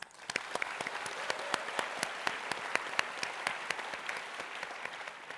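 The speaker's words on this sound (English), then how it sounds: "Let's give them a round of applause." A fairly small audience at a hackathon opening ceremony applauds steadily, with sharp individual claps standing out over a soft, even wash of clapping from start to finish.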